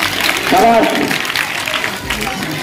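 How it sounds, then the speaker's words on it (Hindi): Applause from a school audience at a Teachers Day speech, a steady wash of clapping heard under a speaker's voice and crowd murmur, with a whistle-like tone near the start. "बहुत अच्छी है, जोरदार तालियां पर बजाइए।"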